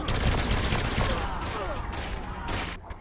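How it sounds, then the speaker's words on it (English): Dense video-game gunfire from Saints Row IV fills the scene, a rapid fusillade of overlapping shots and bursts that stays loud and continuous throughout, with faint chatter mixed beneath. "I'm getting shot from behind."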